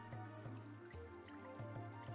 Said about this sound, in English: It just has some really calming water noises in the background.